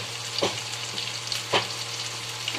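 Tomato, coriander and turmeric sauté in a hot pan, a steady sizzle broken by two distinct scraping strokes of a spatula, close and moderately loud.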